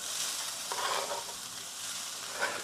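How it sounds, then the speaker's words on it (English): Onions, garlic and jalapeno pepper fry together in a pan, giving a steady, close sizzle with brief stirring scrapes and no voices. "we're going to put the onions, the garlic, and another jalapeno pepper in there"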